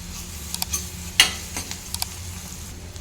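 Onion, turmeric and ginger-garlic paste fry in oil for a dondakaya fry, a low hiss with scattered spoon clicks and one sharper scrape, close and fairly quiet.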